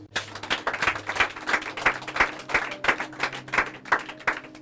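A church congregation claps in steady rhythmic unison to acclaim Jesus, the applause even and moderately close, with a low sustained tone underneath.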